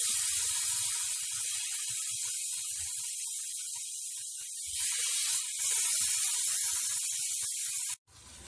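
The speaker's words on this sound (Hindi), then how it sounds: "गोश्त के पीसेस को हाई फ्लेम पे हम अच्छे से रोस्ट कर लेते हैं।" Marinated mutton pieces roasting on high flame in a hot pan give off a loud, steady sizzling hiss that runs unbroken, swelling midway and cutting out abruptly near the end.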